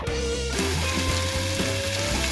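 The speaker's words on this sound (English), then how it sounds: "Now the onion is sweating." Onions sweating in a pan over high heat sizzle steadily and close, a dense continuous crackle with a low hum and faint scraping underneath, no talking.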